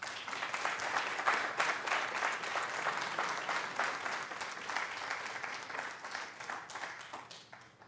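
Audience applause following a speech at an oratorical contest: a full room clapping steadily and densely for several seconds, then gradually thinning and fading toward the end.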